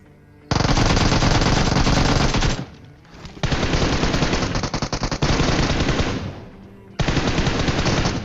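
Loud, sustained automatic gunfire in PUBG Mobile Lite comes in three long bursts with a brief lull between them, close and dominant, with no talk over it.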